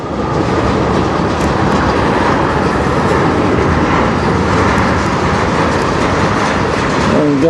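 A CN freight train, M384, goes into emergency braking nearby, giving a loud, continuous heavy rumble with rhythmic clickety-clack of wheels on rails throughout.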